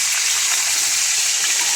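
Water boiling in a pot gives a loud, steady, close bubbling hiss that runs without a break from start to finish, with no voices.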